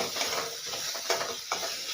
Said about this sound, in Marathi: आत्ता आपल्याला आणखी 1 मिनिटभर ह्याला छान हाय फ्लेमवरतीच परतवून घ्यायचं आहे